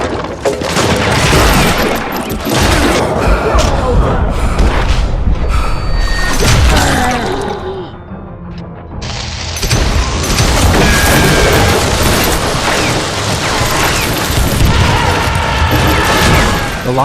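Turret gunfire and explosions in the Gunslinger video game, a loud, continuous barrage of rattling shots, crashes and booms, briefly thinning near the middle before the heavy firing resumes at full intensity.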